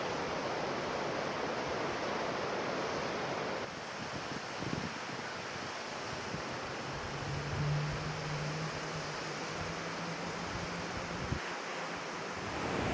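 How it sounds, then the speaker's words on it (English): A waterfall plunging through a narrow rock channel in a North Cascades forest makes a constant broadband roar, loud and unbroken, with a slight shift in tone partway through and a faint low hum later. "The water plunges down in that narrow little rock area"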